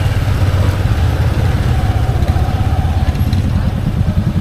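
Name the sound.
motorcycle engine idling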